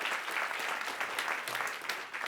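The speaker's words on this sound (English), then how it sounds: "Let's give him a round of applause and thank him for his service." Steady audience applause at a Catholic Charities 100th anniversary luncheon, many hands clapping in a dense, even wash, moderately loud and continuing without pause.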